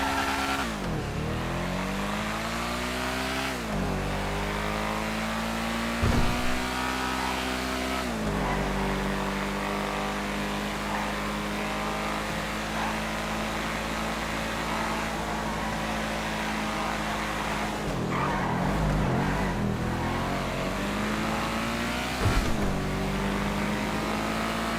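Sports car engine in a racing video game, revving and shifting through gears over and over, with the pitch climbing and dropping at each change. It runs loud and steady throughout, with no talking.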